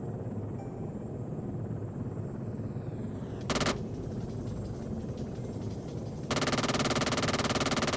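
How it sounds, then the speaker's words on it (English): Automatic gunfire in the Arma 3 military game, a steady rapid rattle under a constant helicopter-like engine drone, with one brief burst and a louder sustained volley near the end. "we are shooting at something"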